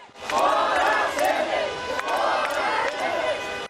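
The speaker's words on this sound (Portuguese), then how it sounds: "Do lado de fora, protestos." Protesters outside the presidential palace in Brasília shout and chant together, a loud massed crowd roar rising and falling in repeated swells, close and continuous.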